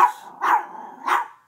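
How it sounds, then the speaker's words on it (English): A dog barks three times from close by, sharp loud woofs spaced about half a second apart, while someone works on a front door nearby. No speech is heard. "So the dog is barking."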